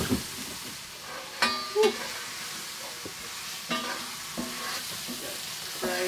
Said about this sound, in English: That's the paste frying off there